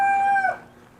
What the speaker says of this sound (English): Stinking little chicken.